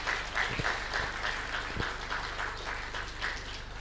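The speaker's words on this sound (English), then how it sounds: "Come on, round of applause." Audience applause at a formal event, dense and sustained clapping with a few louder individual claps standing out, heard at a moderate level throughout.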